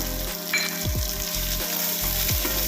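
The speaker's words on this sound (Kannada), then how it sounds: "ನೋಡಿ ಈ ಥರ ಫ್ರೈ ಮಾಡ್ಕೋಬೇಕು ಸ್ವಲ್ಪ ಬ್ರೌನೀಸ್ ಬರಬೇಕು" Chopped onion and green chillies fry in a pan with ginger for tomato chutney, giving a steady close sizzle with a few stirring scrapes across the pan and no voices.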